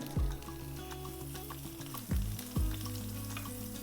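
Butter and oil melt and sizzle in a pan, a steady close crackling hiss with a few sharp clatters of utensils against the pan, no voices.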